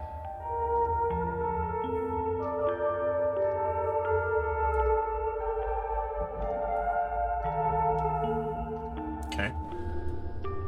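A piano melody plays slow sustained notes over a steady low background drone inside the Fatal Frame video game, continuous and moderately quiet with no voices.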